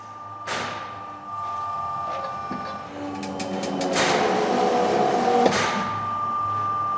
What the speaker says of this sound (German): Noch einmal drückt sich der Stempel auf das Blech, im Negativ mit 100 Tonnen Druck.